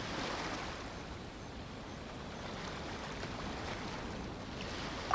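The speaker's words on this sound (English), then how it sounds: "the sound of the waves" Ocean waves wash steadily around Liyue Harbor in Genshin Impact, a continuous broadband surf wash with a faint breezy hiss, with no voices and a small bump near the end.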